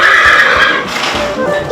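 A horse whinnies in a riding stable, one drawn-out neigh that fills the first part of the clip over steady stable background noise.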